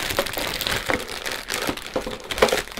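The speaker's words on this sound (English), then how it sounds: "I'm just going to put my pastry bag in the bottom, and we're going to fold it over" Plastic pastry bag folded over inside a cup while preparing old-fashioned ice cream cones, giving close, steady crinkling and rustling with a few sharper crackles throughout.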